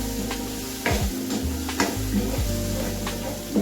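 Green gram (mung beans) being stirred and roasted in a hot pan: a soft continuous sizzle broken by several scraping strokes of a spoon against the pan, close and clear with no voices.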